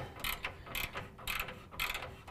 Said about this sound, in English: we're going to go ahead and tighten down the 18 millimeter bolts that are going from our frame bracket to our frame